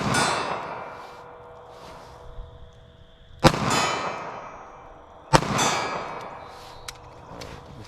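Two loud, sharp gunshots from an M&P .380 ACP pistol, spaced about two seconds apart, each with a ringing outdoor decay.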